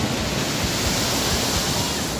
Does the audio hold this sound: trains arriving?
no